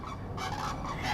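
Outdoors by a pond, birds call with a continuous honking, goose-like clamor that stays steady and fairly loud throughout, with no talking.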